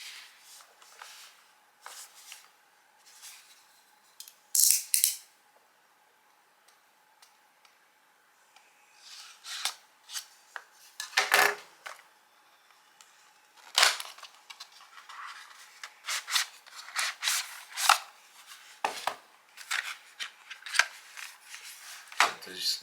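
GoPro tripod mounts being unboxed, with sporadic crinkles, taps and plastic packaging handling scattered through a quiet room.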